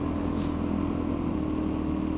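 A Suzuki DRZ 400 motorcycle with its standard exhaust idles at a close, loud, steady rumble that keeps an even low throb throughout and never revs.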